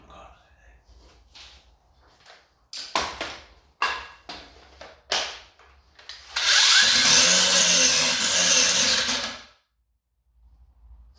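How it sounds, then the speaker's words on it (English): A power grinder cuts a bolt off the inner wing of a Morris Minor in one loud, continuous, harsh burst of about three seconds, up close. Several short knocks and handling noises come before it, and the clip ends in near silence. "I'll grind that off and see what the situation is in behind it"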